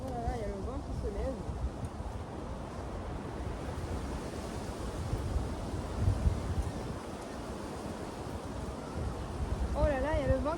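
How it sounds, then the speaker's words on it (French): Steady broadband wind rushing and roaring, loud and continuous, with a voice briefly audible near the start and end. "Oh là là, il y a le vent qui se lève."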